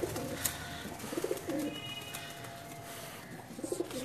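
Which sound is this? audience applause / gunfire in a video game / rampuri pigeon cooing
rampuri pigeon cooing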